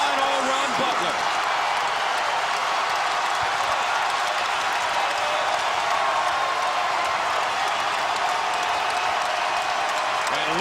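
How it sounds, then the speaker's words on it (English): Basketball arena crowd roaring during a college men's game between Xavier and Butler, a loud sustained wash of cheering and noise that fills the arena, with a commentator talking over it. "And listen to this crowd."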